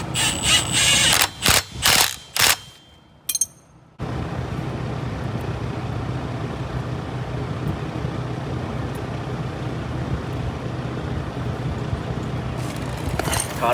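A wrench tightens the tie rod nut on a heavy-duty tie rod kit fitted to a Can-Am Maverick side-by-side. Quick bursts of ratcheting clicks come in the first few seconds, then a steady broadband noise carries on to the end.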